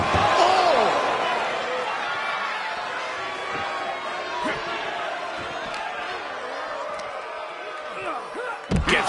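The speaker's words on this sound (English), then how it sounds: "Gets slammed down." A wrestler hits the ring mat during an indoor wrestling show, with a sharp, heavy slam near the end, over a constant crowd murmur and faint voices.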